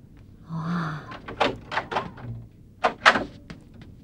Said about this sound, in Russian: Я закрою двери, станет еще прохладнее.